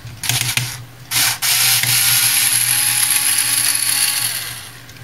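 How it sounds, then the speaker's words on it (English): A power screwdriver works on the screws of an ALDI Ambiano cordless hand mixer. A few short whirring bursts lead into a loud, steady, close motor whine that fades slightly at the end. "I'll probably have to break out the actual screwdriver for a few of these."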